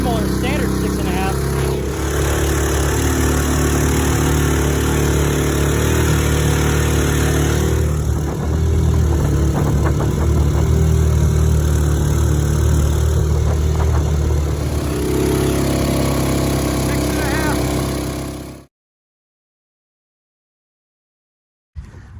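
A 6.5 hp 212 engine on a longtail boat runs steadily at speed, a loud continuous drone with a shifting tone, then cuts out near the end into silence.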